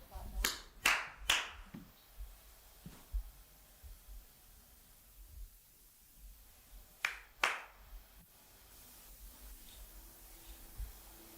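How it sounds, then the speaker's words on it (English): During a ghost hunt in a quiet room, sharp hand claps ring out, three quick ones and later two more, with softer, fainter taps or snaps scattered between them over low background hum. "There's very faint, what sounds like could be clapping"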